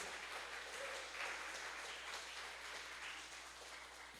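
A church congregation at a live worship service applauds, a faint, steady wash of clapping heard from a distance that tapers slightly near the end.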